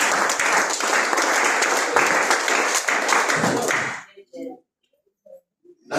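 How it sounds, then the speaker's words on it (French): Church congregation at a Sunday worship service clapping loudly for about four seconds, then stopping abruptly, leaving a few faint voices in the quiet. "Est-ce que nous pouvons applaudir très fort pour la gloire de Dieu?"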